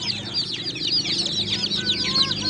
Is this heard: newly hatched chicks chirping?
yes